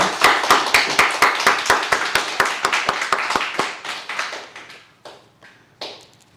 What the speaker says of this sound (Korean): 하나님께 감사의 박수 한번 하겠습니다.